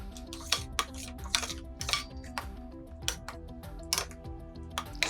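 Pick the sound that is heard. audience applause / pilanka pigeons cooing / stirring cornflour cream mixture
stirring cornflour cream mixture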